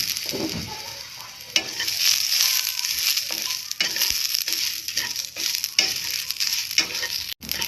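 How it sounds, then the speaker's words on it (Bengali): A spatula scrapes and stirs steadily in a wok as ingredients dry-roast without oil, with a dry crackling sizzle and repeated sharp scraping strokes, close and fairly loud. "এটা ভালো করে একটু ভেজে নেব"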